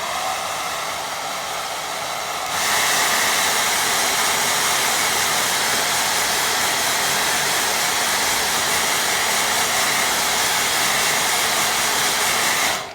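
Hair dryer blowing steadily on a wet watercolour lake painting, a loud continuous airy roar that starts partway in at a lower level and then jumps up, running for over ten seconds with no talk.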